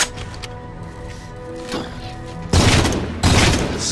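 Gunfire in the Halo 4 video game: bursts of shots and booms, loud and close, with a dense heavy volley in the last second and a half.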